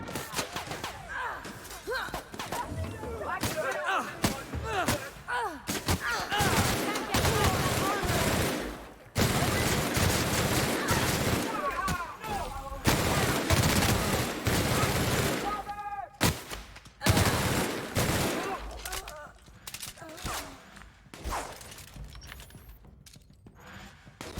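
Dense, rapid gunfire and bursts of combat in the sci-fi role-playing video game The Outer Worlds, loud and nearly continuous with brief lulls, mixed with voices talking.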